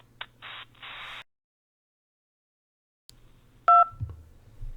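A Nintendo gameplay hotline phone menu, where a single crisp touch-tone key press beeps briefly after a stretch of near silence. Faint line clicks and a soft low rumble come before and after the beep.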